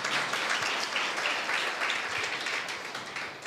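A church congregation gives a thin, scattered round of applause, steady hand claps at a modest level with no voices over them.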